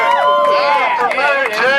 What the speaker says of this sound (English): Everybody give a cheer for Annie here.